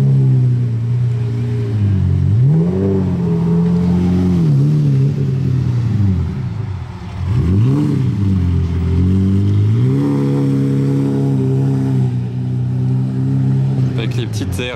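A LaFerrari drives through the casino square, its engine rising and falling in pitch through several loud, close revs and gear changes, with a steady rumble between them and some faint voices around.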